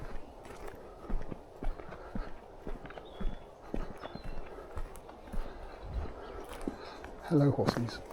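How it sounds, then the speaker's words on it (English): Hooves clip-clopping, loose and irregular, from several horses at a moderate distance in West Moors woods, with outdoor rustling and a short snort near the end. "That sounds like horses. That's a lot of horses."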